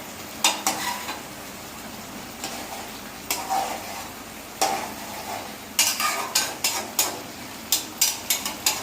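Fish bhuna being stirred in a pan with coriander leaves: a steady soft sizzle runs underneath while a utensil scrapes and knocks against the pan in irregular bursts, speeding into quick repeated strokes toward the end.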